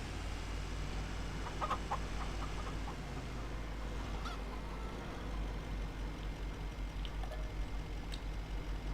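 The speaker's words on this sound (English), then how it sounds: "Let's feed the chickens first," Chickens cluck faintly in the video game Farming Simulator 25, with scattered short calls over a constant low engine-like drone.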